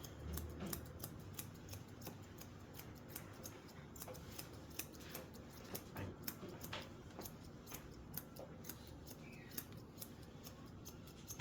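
Scissors cutting hair during a haircut: rapid, crisp snips repeated in quick rhythmic bursts throughout, close and fairly quiet, with no talking.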